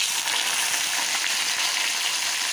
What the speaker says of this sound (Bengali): এখন আমি এর মধ্যে বেগুন আলুটা একটু ভেজে নেব।